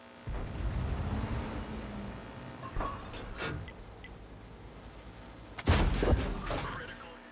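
An M103 heavy tank fires in World of Tanks, giving deep booming shots against a steady low engine rumble. One cannon blast comes early and a second, louder report with a ringing tail comes near the end, with no talking.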